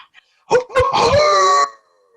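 A big dog gives a couple of short, loud barks that rise into a sustained, close howl lasting about a second before it cuts off.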